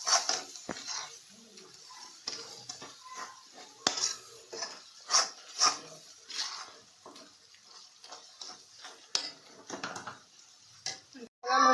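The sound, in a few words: stirring Malvani roasted masala in oil in a pan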